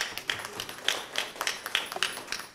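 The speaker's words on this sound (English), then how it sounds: "Can we have a round of applause" Scattered hand clapping from a small audience at a pharmaceutical packaging conference award felicitation, a loose and irregular patter of claps that is fairly quiet and thin, with no voices.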